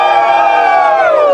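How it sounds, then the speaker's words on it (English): Crowd of more than 150 tram passengers cheering together on the first day of G-Class tram passenger service, a loud, sustained mass of shouts and whoops that fills the whole moment without a break. "I think they're about to give a cheer."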